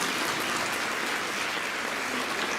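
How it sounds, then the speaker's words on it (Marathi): Audience applause at a community awareness event, a faint, even wash of many hands clapping at a distance, steady throughout with no talk. "टाळ्या तर वाजले पाहिजे."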